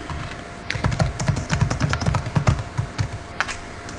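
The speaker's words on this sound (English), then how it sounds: "You can hear my clack, clack, clack, clack of the keyboard." Fingers typing on a computer keyboard up close, a quick irregular run of light plastic clacks and taps with short pauses, fairly quiet and alone.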